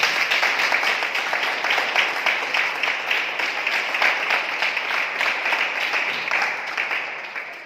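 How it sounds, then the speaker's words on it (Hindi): Steady applause from a church congregation at a prayer assembly, dense clapping that holds at an even level throughout, then tapers slightly at the end. "हम जोरदार तालियों से उनका स्वागत करें।"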